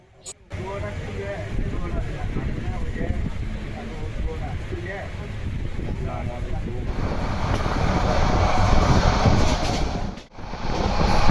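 Steady low rumble of a Bangladeshi passenger train getting underway from Cox's Bazar toward Dhaka, a broad continuous roar that swells slightly louder toward the end, with faint voices beneath it.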